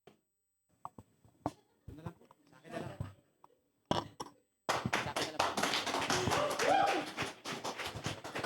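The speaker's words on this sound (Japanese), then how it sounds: "Malakas na palakpak sa Diyos" A church congregation bursts into loud sustained applause after scattered taps and brief voices, the clapping dense and close, filling the room for several seconds to the end.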